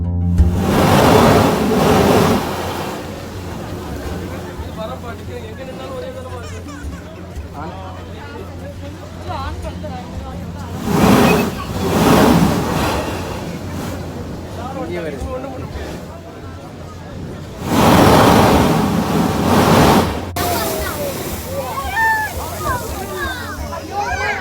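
Seawater surges burst from a coastal blowhole near Marnif Cave in Salalah, heavy rushing bursts of water and surf swelling loudly three times, with a constant watery roar between surges and people talking underneath.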